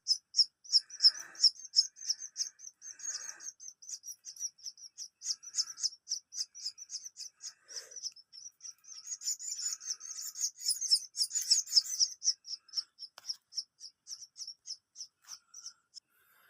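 Chicks chirping inside a cave, a dense run of rapid, high, thin peeps that repeat steadily throughout, with a few softer lower calls mixed in and no talking.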